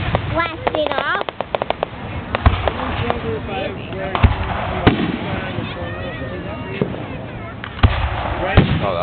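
A July 4 fireworks display in Bennington: several sharp pops and bangs go off at irregular intervals, some loud and close, while people talk and exclaim throughout.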